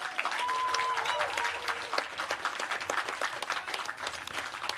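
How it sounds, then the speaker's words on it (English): A crowd at a justice rally applauds loudly and continuously, dense clapping sustained throughout with a few cheers over the top. "I think we need to applaud that."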